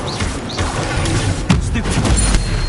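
A fire spell cast in the video game Hogwarts Legacy bursts with a loud, crackling whoosh of flame and impacts across a busy, dense game soundscape, with a sharp burst near the middle.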